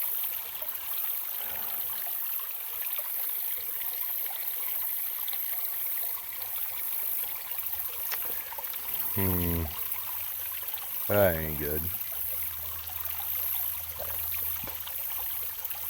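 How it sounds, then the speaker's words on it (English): Water rushes and trickles steadily out of a gold-prospecting sluice in a creek nearby, a constant flowing wash, while someone briefly speaks twice over it. "Ton of water pouring out of there."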